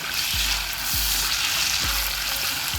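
Potatoes frying on low heat in a pan, a loud continuous close sizzle with a few soft low thumps from stirring or shifting pieces, no talking.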